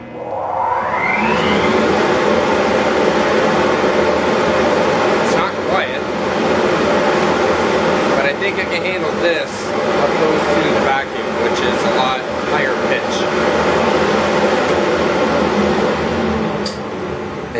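A workshop dust collector runs with a steady, loud broadband roar, picking up debris at an open port, with brief rattles and shifts in the airflow; someone talks over it.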